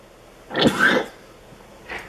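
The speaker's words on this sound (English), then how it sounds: "Sorry about the coughing." A man gives a single rough cough with some throat clearing, close and fairly loud, followed by a fainter breathy sound a moment later.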